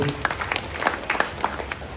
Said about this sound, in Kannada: ನಿಮ್ಮ ಜೋರಾದ ಚಪ್ಪಾಳೆ ಕೊಡ್ರೆ ಅವರೇ ವೇದಿಕೆ ಬಂದು